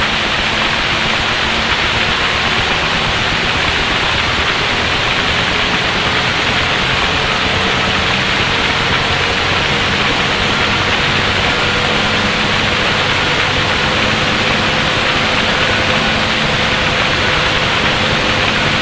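A UH-1 Huey helicopter's turbine engine runs steadily in the DCS flight simulator, a loud, constant broadband roar with a thin high whine and no pauses.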